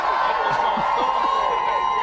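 A crowd gathered outside the England football team's hotel cheers and murmurs steadily at a distance as the squad arrives, with a voice talking over the din.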